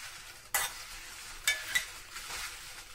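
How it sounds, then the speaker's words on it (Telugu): Cumin, coriander seeds and dried red chillies being dry roasted in a kadai, soft rustling and a few sharp scraping stirs against the metal, quiet and close, no voices. "జీలకర్ర, ఈ ధనియాలు అన్నిటినీ మనము లైట్గా దూరగా వేయించేసుకున్నాము"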